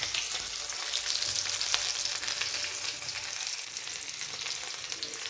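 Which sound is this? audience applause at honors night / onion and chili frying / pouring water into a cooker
onion and chili frying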